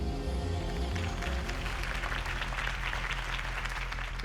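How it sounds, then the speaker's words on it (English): Crowd applause following a campaign speech in Batman - The Telltale Series, a sustained wash of clapping from many hands that stays even for about four seconds, with no talk over it. "If only Mr. Wayne, my campaign's largest backer, could have heard that applause"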